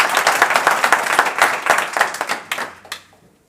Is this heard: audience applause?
yes